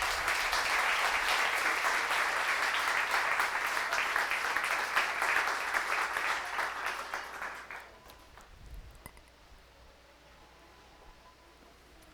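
A church congregation at a Sunday service applauds, a broad, even wash of clapping lasting about seven seconds before fading out into faint room noise.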